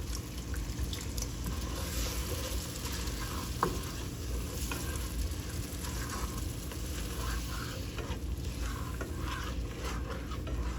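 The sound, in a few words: vegetable broth poured into a sizzling pan for seafood boil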